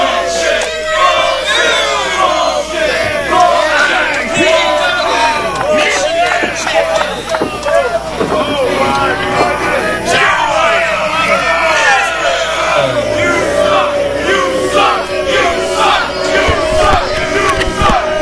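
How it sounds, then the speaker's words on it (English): A wrestling crowd at an IPW event loudly jeers a newly crowned champion, a dense, sustained roar of shouting and booing throughout, with a commentator talking over it. "the crowd here at IPW is letting them know what they think of him"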